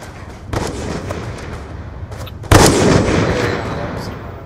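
Shooter video game gunfire: a few sharp shots and bursts, the loudest cracking sharply near the end with a booming echo, with a voice talking in between.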